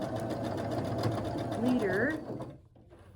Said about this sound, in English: If you can hear me over my loud sewing machine